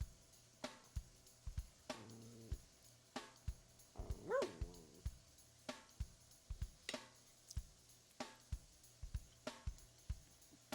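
A dog barks repeatedly in short, sharp, evenly spaced yips, faint and somewhat distant indoors, with a brief whine in the middle.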